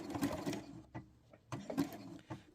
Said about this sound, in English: I'm also going to zigzag stitch that on the seam just to make sure